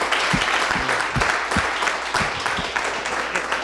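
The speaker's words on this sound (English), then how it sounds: "Let's give a round of applause to all the folks" Audience applause for panelists at a public forum on cyber surveillance, a steady wash of many hands clapping filling the room throughout, with a few brief speech fragments underneath.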